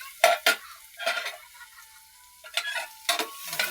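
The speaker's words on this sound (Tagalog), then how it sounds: "Pag kami nagluluto, ligisa po namin yan. Yan, para mabango. Nilagyan namin ng bawang, luya at sibuyas." Garlic, ginger and onion are sautéed in a pan with a quiet sizzle, while a utensil makes a few sharp stirring scrapes and clicks in short clusters, close and otherwise quiet.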